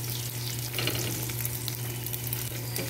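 Bacon frying in its own rendered fat for potatoes with poblano chile crackles with dense, constant sizzling and popping, close and with no voices.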